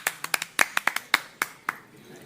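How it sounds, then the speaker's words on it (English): A short burst of clapping at a radio talk show, a few sharp irregular claps close to the microphone that quickly thin out and fade, with no voices over them. "Round of applause, I think."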